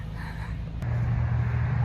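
Low rumbling engine and road drone heard from inside a truck, steady at first and growing louder and heavier after a brief click, continuous throughout.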